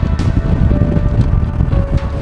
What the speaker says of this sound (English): it is crazy windy up here